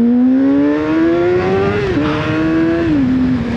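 A ZXJC 500RR motorcycle engine revs hard and climbs through the gears, its loud, close tone rising steadily with brief drops at each shift, with no talking.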